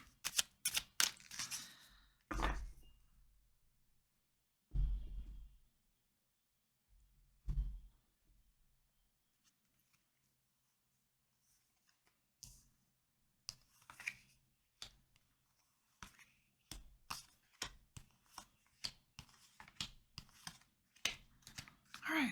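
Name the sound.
shuffling tarot cards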